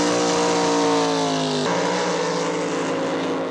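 Loud, close roar of drag boat engines at Hidden Lake in the Arizona desert during a drag boat race, a high droning whine that sweeps downward as a boat passes, steady and dominant with no voices.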